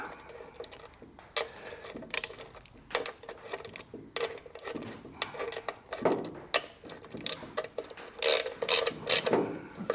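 Tightening a nut by hand on the throttle lever of a Chinese mini excavator gives repeated close ratcheting clicks in quick bursts, loud and dry, with no talking.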